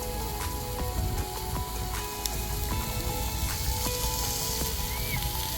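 A steak sizzles while cooking for an American-style Memorial Day meal in California, a soft, steady hiss of frying with faint crackles and pops close by and no voices.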